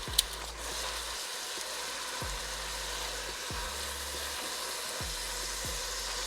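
Minestrone vegetables sizzle and fry in a pot over high heat, a steady crackling hiss with a few soft stirring knocks at regular intervals, fairly faint and uninterrupted by talk.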